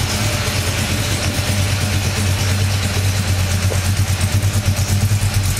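A 1957 Chevrolet Nomad engine idles steadily up close, a deep, even rumble with a faint rhythmic clatter running through it, no voices over it.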